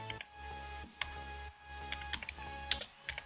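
Someone types CSS code on a computer keyboard, quiet irregular key clicks in short bursts with brief pauses, close and dry.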